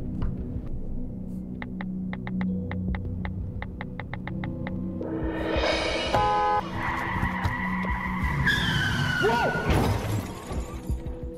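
A car skids with a long, rising tire screech, then crashes into a pole with a loud impact and shattering debris. A faint rhythmic ticking comes before the skid.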